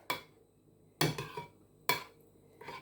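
Chicken soup stirred in a pot with a touch of virgin olive oil, a spoon clanking against the pot in three or four distinct knocks with brief scraping between them, close and clear.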